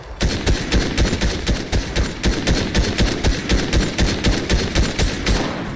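Rapid automatic gunfire in Fortnite rattles on in a steady, evenly spaced stream of loud shots. The burst lasts the whole stretch with almost no talking over it.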